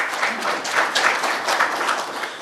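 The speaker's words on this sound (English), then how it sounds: "So I think he deserves a round of applause." An audience claps at a conference session, a lively round of applause with swelling bursts and a slightly uneven rhythm, sustained and fairly close, with no talk over it.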